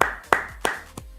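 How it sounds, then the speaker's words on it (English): Four separate hand claps ring out in slow succession, fairly sharp and close, with short decaying tails between them and no voices. "Round of applause for Ocon."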